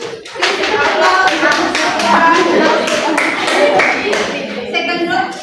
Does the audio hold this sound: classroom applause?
yes